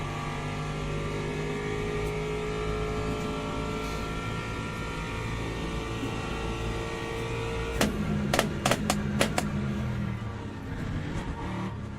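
A BMW race car engine in the sim racing game Le Mans Ultimate at Monza holds a steady, droning note, then cuts through a rapid burst of sharp revs and shifts near the end.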